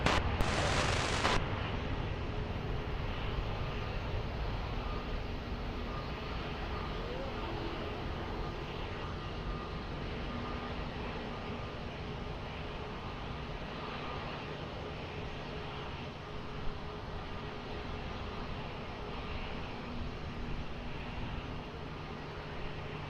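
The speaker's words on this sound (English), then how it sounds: "wind 290 degrees, 9 knots, variable between 250 and 320 degrees, runway 20, cleared for takeoff" A plane taking off from runway 20 at Lisbon Airport, a steady broad engine roar that holds loud and near throughout after a sharp opening burst, with no talk over it.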